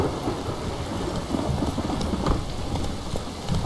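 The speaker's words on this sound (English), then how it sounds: "This downpour's a bastard," A heavy rain downpour roars in a video game, dense and continuous across the whole stretch, with a low rumbling undertone like distant thunder and no voices.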